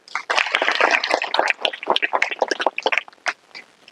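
Audience at a school motivational talk applauds the chairman, a dense burst of many hands clapping that swells quickly then thins into scattered claps before fading out.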